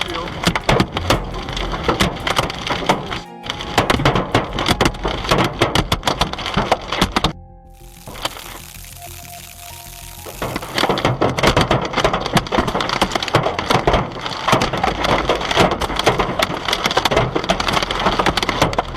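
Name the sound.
hail pounding on a car roof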